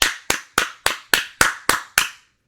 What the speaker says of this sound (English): Yes, like round of applause.